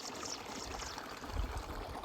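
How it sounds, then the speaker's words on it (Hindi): Cold water from a natural spring in a mountain village flows and trickles steadily, a close, continuous splashing stream with no voices. "यहाँ पर नेचुरल वाटर सोर्स है एक, ये देखो इतना चिल्ड पानी होता है ना ये भाई"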